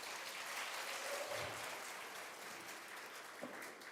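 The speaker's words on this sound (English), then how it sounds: "Let's clap for you." Faint, steady clapping from an audience at a youth forum with the president, applauding a young self-employed farmer, even and distant throughout with no talk over it.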